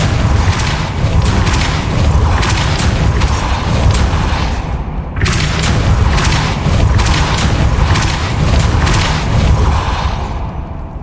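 In the Hogwarts Legacy video game, a Depulso spell sets off a loud, rumbling series of rapid booming impacts and mechanical clatter, pausing briefly midway before surging again, then fading out at the end.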